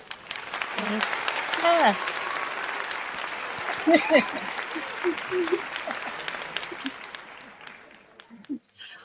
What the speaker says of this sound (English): I love applause. That was excellent.